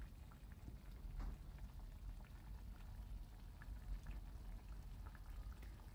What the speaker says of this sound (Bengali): প্রায় ফুটে এসছে